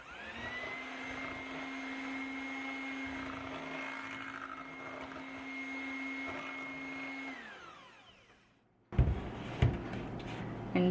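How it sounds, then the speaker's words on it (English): Electric hand mixer with beaters whirring steadily through cake batter for a honey and lemon bundt cake, a continuous motor hum that winds down and stops, followed by a few clattering knocks. "Give that a mix."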